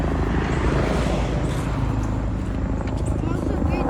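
A helicopter passes overhead outdoors, a loud, continuous low rumble and rotor drone filling the whole stretch, with voices talking over it.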